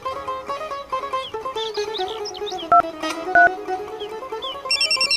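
Incoming call on a mobile phone, a repeating electronic ringtone melody of short tonal notes playing at moderate volume, with a couple of brief louder beeps partway through.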